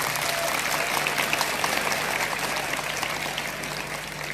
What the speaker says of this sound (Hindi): तो अपने लिए तालियां बजाइए।